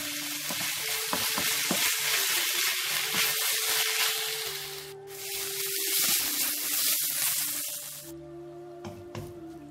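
Onion, garlic, ginger and blanched green pepper sautéing in a wok for Cantonese-style shrimp, a continuous loud sizzle broken by scraping stirs, with a brief dip midway and a sudden drop near the end.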